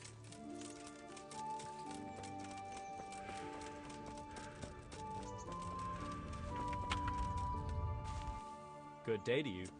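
Horse hooves clip-clopping in the medieval game Kingdom Come: Deliverance, quiet and steady under music and talking, ending with a short whinny.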